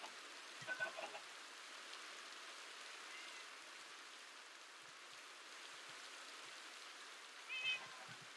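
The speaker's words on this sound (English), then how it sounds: "And I just spooked the cat." A cat meows faintly, with two short calls near the start and end of a quiet outdoor stretch under a soft, steady hiss.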